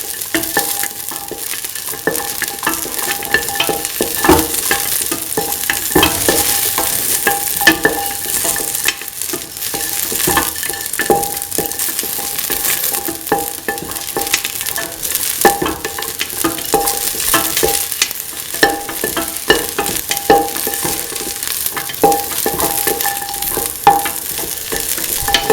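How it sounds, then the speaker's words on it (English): Kidney beans and vegetables sauté in a pan, a steady close sizzle with repeated scraping and clinking of a spoon stirring throughout. "Keep on sauteing."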